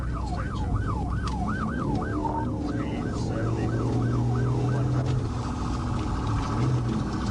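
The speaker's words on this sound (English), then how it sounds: "Is that an ambulance or a paramedics truck?" An ambulance siren wails in a rising and falling sweep during a police chase, loud and close over steady road and engine noise, then fades into traffic rumble.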